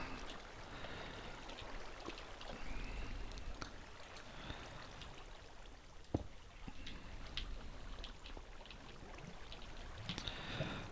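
Gentle flowing, trickling water while swimming in Minecraft, a steady soft wash with small splashes and clicks scattered throughout, fairly quiet and continuous.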